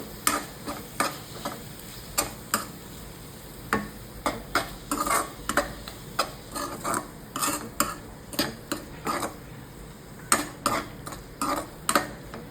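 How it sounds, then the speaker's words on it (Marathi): A spoon clacks and scrapes against a pan in a steady rhythm of sharp knocks as spices with salt are stirred together for a Maharashtrian sprouted moth bean (matki) curry; close, with no talking. "सगळे मसाले मिक्स करून घेऊया."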